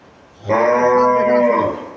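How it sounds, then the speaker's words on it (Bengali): A Friesian dairy cow at a Bangladeshi cattle sale gives one long, loud, close moo lasting over a second, with no talk. "খুব সুন্দর একটা গরু"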